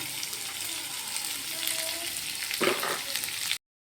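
Chopped carrot and cabbage sizzle and hiss in a hot pan for egg fried rice, a steady close frying sound with a brief scrape of stirring near the end.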